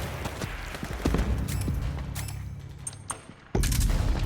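Suppressing gunfire in the video game Metal Gear Solid 4, a rapid fusillade of close, loud shots and booms that continues through the clip, with a sharp burst of fire near the end.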